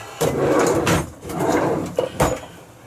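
Drawers being slid open and shut several times, close and loud rumbling wooden scrapes with sharp knocks as they stop, in irregular bursts.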